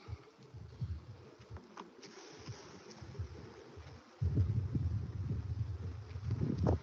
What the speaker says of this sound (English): be very sad to have to destroy this hive because it's big, lots of bees